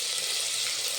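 Onions sizzle steadily in hot oil in a pan, a bright continuous hiss with no talk, for a sprouted-gram curry.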